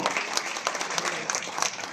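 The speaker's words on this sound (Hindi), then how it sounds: "एक बार तालियां जोरदार हो।" An audience at a ministry ceremony for handing appointment letters to dental and medical officers applauds loudly and continuously, a thick, even roar of many hands clapping throughout.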